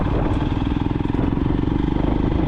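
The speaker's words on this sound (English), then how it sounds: "this bike does really good on gravel" A motorcycle rumbles along a gravel road, its engine throbbing steadily and loudly up close, with faint crunching and clatter mixed in.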